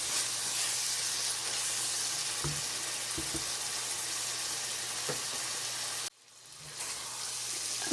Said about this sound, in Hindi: प्याज को डाल के अच्छी तरह भून लिया है।